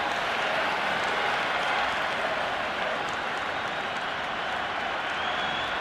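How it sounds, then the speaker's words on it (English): Stadium crowd at an India versus Pakistan T20 cricket match roaring and applauding a big hit, a dense, steady wash of cheering and clapping held loud throughout with no let-up. "the excitement emanating from this crowd at the moment"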